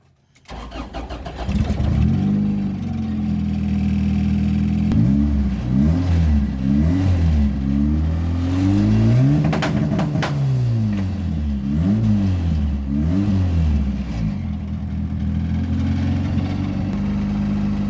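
A turbocharged Honda Accord F23 engine cranks and fires, then settles into a steady, rumbling idle with a few wavering rises in pitch, loud and close; the engine has been running rich.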